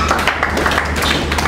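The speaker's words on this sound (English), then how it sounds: "Clap for yourself." Lecture audience at a bootcamp claps together in a dense, steady patter of many hands, fairly close and filling the short moment without a pause.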